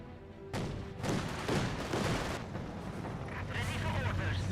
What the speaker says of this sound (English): he's lost that Grenadier from the demolition charge, satchel charge